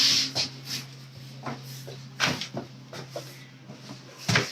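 Doors pushed open in an empty two-family house in East Orange, New Jersey: several knocks, clunks and scrapes spread across a few seconds over a steady low electrical hum, with no voices.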